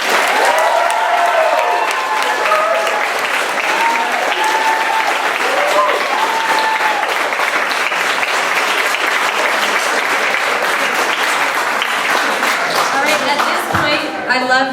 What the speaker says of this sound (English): please clap now.